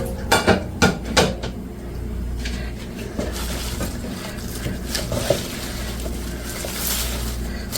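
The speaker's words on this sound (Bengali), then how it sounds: "অল্প অল্প করে নেড়ে নেই, কারণ অনেকগুলা শাক একসাথে নাড়া যাবে না" Pumpkin greens mixed with leaves are stirred a little at a time in a pan with shrimp, opening with a few sharp utensil knocks against metal, then a softer rustle and occasional clinks.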